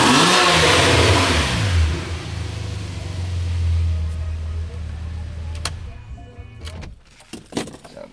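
A Porsche 911 Carrera 4S engine roars loudly at first, then settles into a deep, throaty exhaust rumble that fades, followed by a few sharp clicks.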